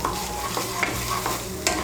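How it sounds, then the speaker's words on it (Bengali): Ginger paste and green chili paste fry in a pan with a dense, close hiss and faint stirring scrapes, steady throughout with no voices. "আদা বাটা আর কাঁচা লঙ্কা বাটাটাকে ভেজে নিয়েছি।"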